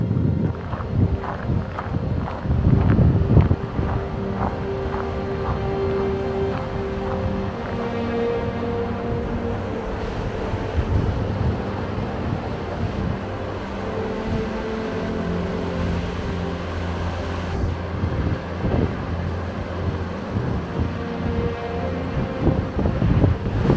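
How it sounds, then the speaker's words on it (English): Godafoss waterfall in winter pours ice and slush in a constant rushing roar, with wind buffeting the microphone and no speech. "The amount of ice, slush that's just flowing out of this waterfall is incredible."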